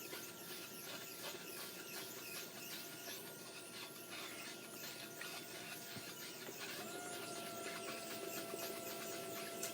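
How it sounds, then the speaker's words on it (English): A Pacifica pottery wheel runs with a continuous mechanical whine and hum, steady and unbroken throughout, with faint rubbing and squealing textures layered over the motor drone. "Sorry about my nice loud Pacifica wheel."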